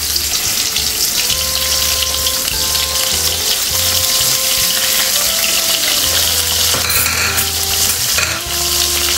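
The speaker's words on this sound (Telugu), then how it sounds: "మనం ఈ చేప ముక్కలు మొదటగా వేపు పక్కన పెట్టుకుందాం." Dried fish pieces frying in hot oil, a loud, steady sizzle and crackle close by, with occasional spoon stirring and no talking.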